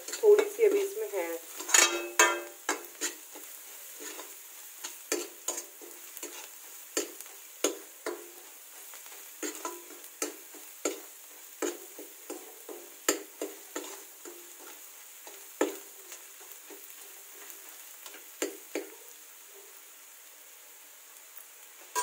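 Food frying in a pan on a home stove, stirred with a utensil, tomatoes about to go in: a steady soft sizzle under repeated scraping and clinking strokes against the pan, close by and continuing throughout.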